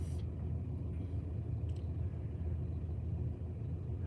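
Car engine and road rumble heard from inside a car on a commute to work, a low, steady, fairly quiet drone that holds throughout with no talking.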